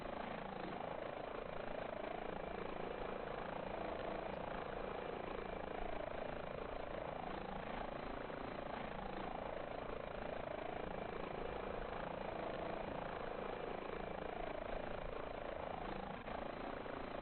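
Airbus H145 helicopter in the Microsoft Flight Simulator game gives a steady, continuous rotor and turbine drone with a rhythmic blade whump, loud and unbroken throughout with no talk.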